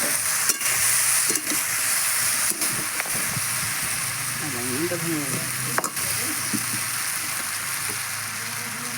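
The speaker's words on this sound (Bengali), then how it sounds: "এবার আমি দিয়ে দেবো কাশ্মীরি লঙ্কার গুঁড়ো কালারটা ভালো আসার জন্য দিয়ে একটু নেড়ে ফেলে" Kashmiri chili powder is stirred into mustard paste sizzling in hot oil for a silver carp fish curry, giving a steady loud crackle with a few scraping strokes of a spoon against the pan and brief voices.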